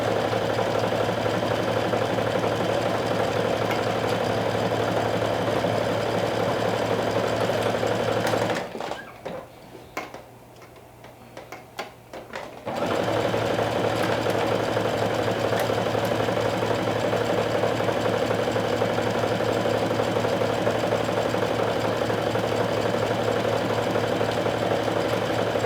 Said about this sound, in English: if you want to finish this raw edge with your serger